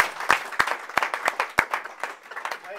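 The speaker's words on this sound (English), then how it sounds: "Now we need thunderous applause," Applause from the audience at a Rotary club meeting, a few sharp close claps over a softer wash of clapping hands, ragged and fading without settling into a steady roar.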